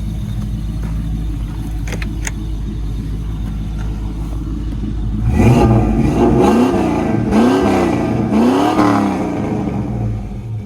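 A truck engine idles steadily, then revs repeatedly in quick throttle blips, each rise and fall loud and close, before settling back toward idle.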